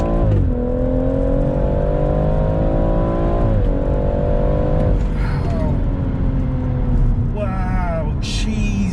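A tuned BMW M140i (JB+ tuning box, 410 bhp) pulling hard under full throttle, droning engine pitch climbing through several gear changes, loud and continuous with a faint voice near the end.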